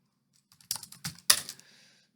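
A make command typed on a computer keyboard while building an OpenCV program on a Raspberry Pi: a short burst of four or five crisp, close keystroke clicks with no talking.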